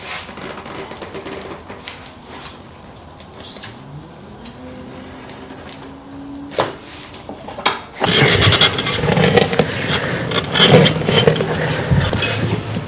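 A knobby tire on a Honda CRF250L Rally rim is worked with tire levers, giving quiet scraping and creaking with a few metallic clicks. The sound becomes louder and rougher rubber-on-metal grinding near the end.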